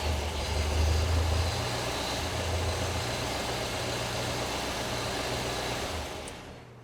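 A 1970 VW Beetle with a 1776cc engine and new dual 40 IDF carburetors idles at around 500 rpm, a steady low rumble throughout, held close and alone before fading slightly near the end.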